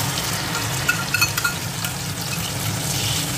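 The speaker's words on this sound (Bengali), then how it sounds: "দিয়ে এইভাবে নেড়ে নেড়ে বেশ কিছুক্ষণ ধরে আমি এটাকে কষিয়ে নেব" Ground spice paste fries in hot oil with whole spices as it is stirred, a steady close sizzle broken by a few scraping stir clicks, with no voices.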